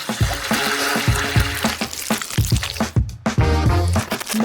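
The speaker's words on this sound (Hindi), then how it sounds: "जेलेटिन को चीनी और पानी के साथ मिलाऊंगी" Gelatin being stirred and beaten with sugar and water in a bowl, giving wet squishing, sloshing and dripping sounds with repeated utensil knocks, fairly loud and close, with no talking.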